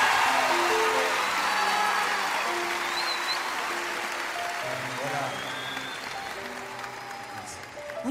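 A concert crowd applauds a singer: loud, thick clapping that slowly thins and fades over about eight seconds, with faint whistles and cheers above it and a hint of music or voices underneath.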